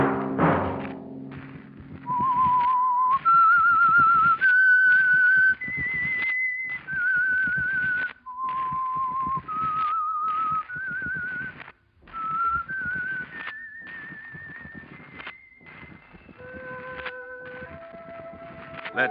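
A whistled melody rises and falls in clear sustained notes, loud and close, over a low background rumble.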